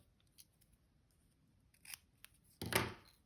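Scissors snipping paper pieces for a handmade card, a few quiet, close cuts followed by one louder, longer slicing snip near the end, alone in a quiet room.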